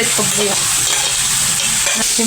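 Chopped onion drops into hot fat, ghee or oil in a pan and fries with a loud, steady close sizzle throughout, with a few brief scraping stirs.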